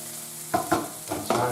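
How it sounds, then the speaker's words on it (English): Butter foams in a frying pan while beef stroganoff is being made. Quiet sizzling is broken by a few short bursts of stirring or scraping over about a second and a half. "let's get this butter foaming"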